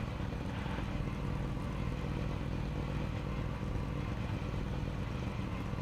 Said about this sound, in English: As we get a few revs of confirmation from our drivers, letting us know that they're ready to go